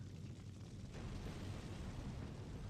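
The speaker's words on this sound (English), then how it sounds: "that was a pretty pansy-ass explosion" A small explosion in the video game Fahrenheit (Indigo Prophecy): a sustained rumbling burst that swells in after a quieter start and holds as a dense roar to the end, with no speech over it.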